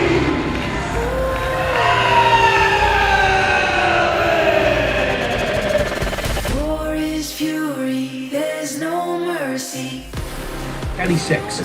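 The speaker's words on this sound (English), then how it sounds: "When you hear the siren sound" A wailing siren rises and falls through the first half at a wrestling show, then gives way to a pulsing electronic tone under a loud voice.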